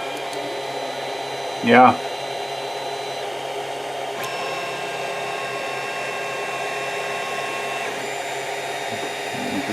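A Creality CR-10 3D printer runs with its nozzle and bed heated, giving a steady, even fan-like whir and hum throughout, with a short spoken word near the start.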